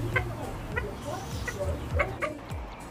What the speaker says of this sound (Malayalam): മില്ലി ഫ്ലോറിൽ ഡ്യൂക്കൽ ബാൻഡും മില്ലി ഫ്ലോർ എന്നൊക്കെ പറയുന്ന കോഴികളാണ്